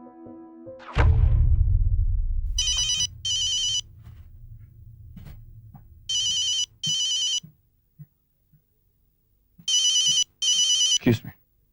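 A home telephone rings in three pairs of bright electronic trills with silent gaps between, after a heavy thump and low rumble at the start; a brief clatter ends it.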